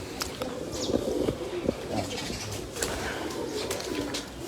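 Pigeons coo in a loft, low soft calls rising and falling at moderate distance over steady background noise, with occasional sharper chirps and flutters.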